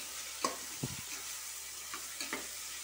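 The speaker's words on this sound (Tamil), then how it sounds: "தக்காளி நல்லா வதங்கட்டும்" Tomatoes sautéing in a pan for pudalangai biryani cooked in a pressure cooker, a soft, quiet sizzle broken by a few distinct stirring clicks and scrapes, with no voices.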